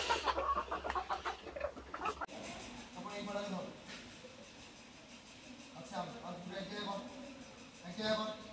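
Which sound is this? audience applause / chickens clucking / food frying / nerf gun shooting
chickens clucking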